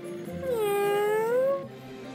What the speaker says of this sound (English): Postman Pat and his black and white cat.